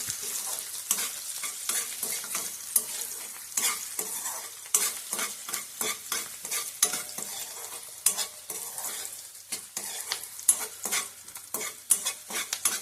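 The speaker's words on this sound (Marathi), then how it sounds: "आपण ना कांदो नीट असं भाजून घ्यायचं." Onions fry in a pan, hissing softly while a spoon stirs them in frequent rhythmic scrapes and clinks against the metal.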